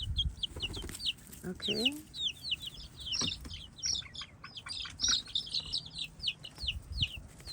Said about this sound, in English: Here's some of the chicks. The little chicks.